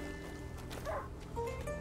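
A dog barks inside the video game A Plague Tale, a few muffled woofs over a steady backdrop of game ambience and music.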